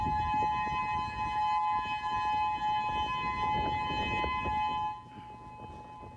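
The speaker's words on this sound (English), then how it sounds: "We have some video of the moment the sirens came down on Maui earlier this afternoon." A civil defense warning siren wails steadily across Maui, a loud sustained tone that holds for about five seconds before dropping in level as it winds on, with no voices present.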